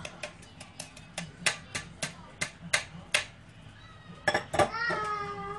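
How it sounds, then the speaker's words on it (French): Lemon cake batter of flour and cornstarch being whisked in a bowl, with a steady run of crisp utensil clinks against the bowl, followed by a voice near the end. "Je mélange. Je mélange le tout."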